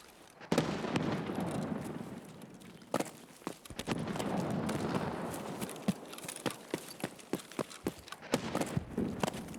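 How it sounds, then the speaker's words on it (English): Grenade blasts in an online shooter on a Berlin map, with repeated sharp bangs and cracks scattered through the clip over a busy background wash, some close and loud, others quicker and lighter. "There's a lot of grenades."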